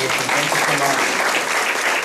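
An audience applauds the last speaker at a rural Alzheimer's assessment talk in Uvalde, a dense, continuous burst of clapping that fills the short clip.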